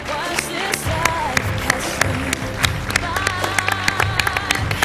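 Audience applause for a contestant at an X-Factor Armenia audition, with scattered claps rippling steadily through the whole stretch, moderately loud, while a voice talks over it.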